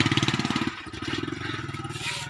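A motorcycle engine running in a rhythmic, pulsing putter, fairly close and steady, with a brief dip before it picks back up.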